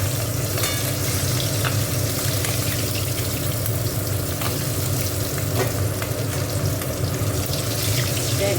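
Small tangra fish fry in an oily pan with a loud, continuous sizzle and scattered crackles and pops. The sound is close and unbroken throughout, with no talking.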